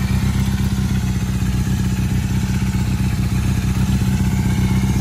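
A 1981 Honda CM400 cafe racer motorcycle running close by: a loud, steady, low engine rumble with rapid even pulsing and a faint clatter, holding constant throughout.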